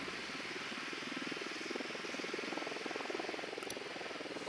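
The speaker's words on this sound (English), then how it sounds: "The drone is up." A hovering drone in the Ghost Recon Wildlands video game, a continuous low whirring engine drone with rapid pulsing, moderately faint and steady throughout.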